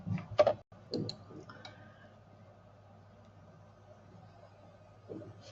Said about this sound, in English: So we'll click preview.